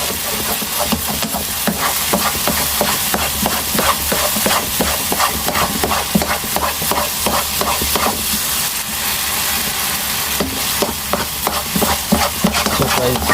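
A spoon stirs date halwa cooking in ghee in a pan, giving a steady loud scraping and sizzling with quick rhythmic strokes that run on without pause and with no talking.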